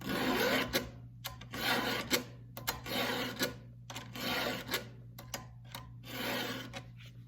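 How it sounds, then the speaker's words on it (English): A file rasps against a chainsaw chain in steady back-and-forth strokes, about eight close, loud passes separated by short pauses, over a low steady hum. "It does both at the same time, and it'll save you a lot of time in sharpening your blade."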